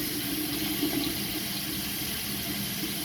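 Hot and cold water runs steadily from a tap into a basin, a constant rushing splash with no talking.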